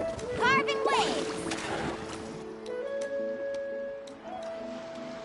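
Surfing across waves in Genshin Impact, with water swishing and splashing under the board and a game voice and chiming effects layered over the rushing water.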